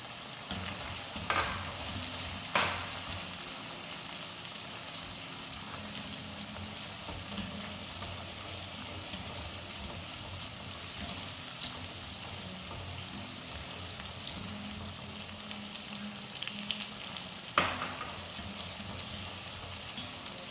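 Bird's eye chilies fry in hot oil for a bitter gourd pickle, a soft continuous sizzle with occasional sharper pops and clicks.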